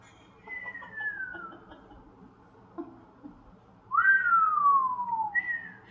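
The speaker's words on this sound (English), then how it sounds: "my whistle isn't even" A person whistles two gliding notes, the first a long falling tone and the second a louder rise then fall, with a short third note at the end, over a quiet room hum.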